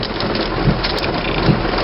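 Heavy rain pours steadily during a thunderstorm at a Jeep camp in Namibia's Caprivi Strip, a dense, constant hiss with soft low rumbles, close and loud with no voices.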